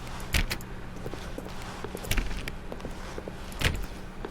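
Locked office doors rattle in The Stanley Parable, three sharp metallic jiggles of a handle spaced about a second and a half apart, close and fairly loud over a low room hum, with no talk.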